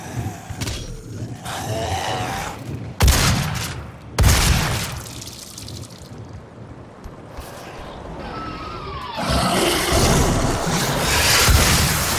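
Gunfire and explosions from a possessed soldier in the Doom level Foundry, sharp loud blasts and bursts over continuous rumbling game noise and music.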